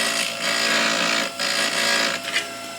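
A small desktop lapidary grinding machine, used for cleaning up glass edges, whirs steadily at close range, its high motor whine dipping briefly a few times as it runs.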